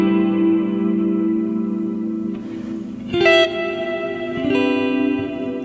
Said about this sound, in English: you basically just end up with some really nice kind of air to the reverb